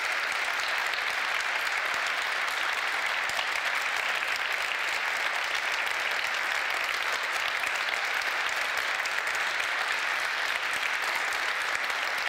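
Sustained audience applause at an open academic seminar on Ukraine, a steady dense clapping from a seated crowd lasting throughout with no speech over it.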